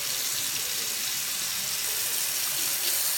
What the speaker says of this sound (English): I'm not going to run the water very heavy